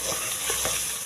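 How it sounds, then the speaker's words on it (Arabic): Tomato and turmeric sizzle steadily in a frying pan while being stirred, a dense close crackle with soft scraping strokes throughout. "كل شيء حركوا مليح تتقلى شوية"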